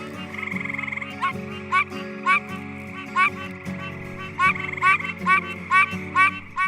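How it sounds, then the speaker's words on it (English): Pine Barrens tree frogs call in a steady series of short, nasal honking croaks, repeating every half second or so over a chorus of background frog trills. "we continue to hear Pine Barrens tree frogs calling"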